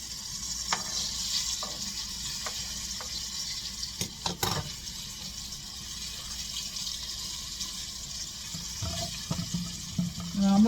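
Chicken pieces frying in a hot skillet over medium-high heat, giving a steady broad sizzle with occasional sharp crackles and pops, close and continuous, with no talking.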